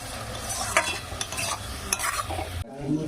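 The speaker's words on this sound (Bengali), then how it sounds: "পেঁয়াজটা কিন্তু খুব তাড়াতাড়ি ভাজা হয়ে আসবে" Onions sizzle and fry in a hot pan, salted, for a special chicken curry while a utensil stirs them in scraping bursts; the frying is steady and close, and it drops suddenly near the end.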